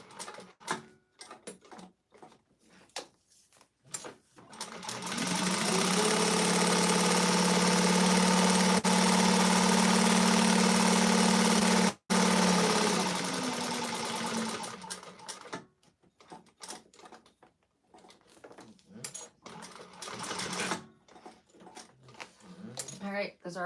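A sewing machine stitches fabric in one sustained run of about ten seconds, a loud steady motor whir that starts and stops abruptly, with quieter rustling and handling sounds before and after.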